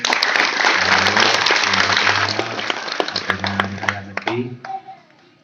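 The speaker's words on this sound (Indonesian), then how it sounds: "tepuk tangan untuk Pak Kades." Crowd applause at a Hindu temple gathering for Ngebak Geni at Pura Kerta Bhuwana Giri Wilis in Nganjuk, a dense wash of clapping over a low droning tone that thins into scattered claps and fades near the end.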